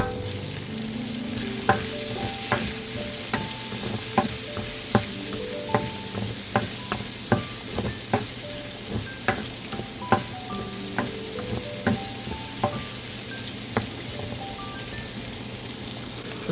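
Chicken fried rice stir-fried with garlic, ginger, red pepper and green onion: a steady sizzle under regular, sharp spatula clacks against the pan, close and continuous, with no talking.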